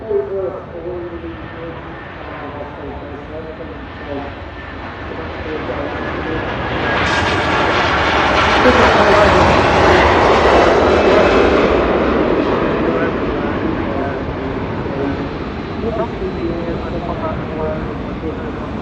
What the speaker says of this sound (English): Goes the Hainan Airbus A330 heading back to Beijing.